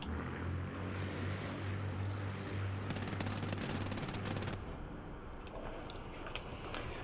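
Aircraft machine guns rattle in Scramble: Battle of Britain as a fighter dives on bombers, faint, rapid bursts over a steady, droning engine hum.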